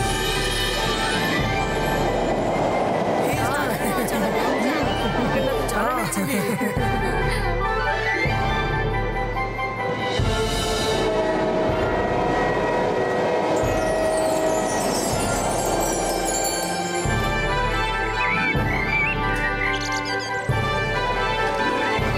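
A cartoon flying train runs at an amusement park, its rumbling rail clatter mixed into a dense, busy soundtrack with chirps and bell-like tones, steady and loud throughout.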